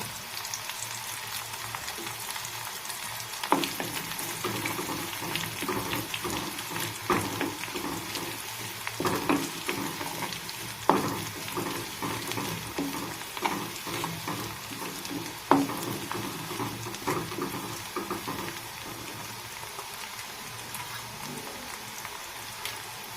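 Four chopped shallots and two dried red chillies fry in hot oil for a Kerala chena puli curry, a steady loud sizzle with occasional stirring clatter and scrapes running for over twenty seconds, with no voices.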